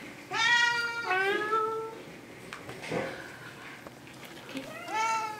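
Ginger cats meow nearby: a long, clear drawn-out meow at the start, shorter sounds in the middle, and another loud meow at the end, with a person talking quietly between them.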